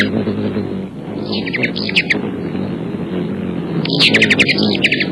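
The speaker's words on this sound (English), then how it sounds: "You're hearing the wings, the hum from the wings, and also the little chirp, chirp that they do." Ruby-throated hummingbird chirps in quick high bursts, clustered in two groups, over the low steady hum of its wings and faint background rumble.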